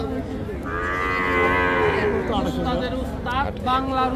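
A young bull calf lets out a drawn-out moo, followed by shorter calls, close by, with a busy crowd murmuring in the background at a village cattle market near Dhaka.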